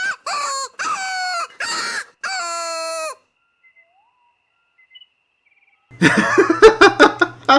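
A duck calling out in the hunting game Call of the Wild, several loud honking quacks in a row, then quiet, then a burst of harsher squawking and flapping-like noise close by.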